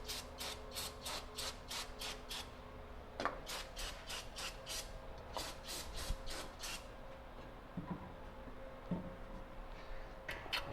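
Faint rhythmic rag rubbing as a part on an '83 square body truck is wiped down after a spray of brake cleaner, quick repeated strokes in bursts with brief pauses and occasional light knocks.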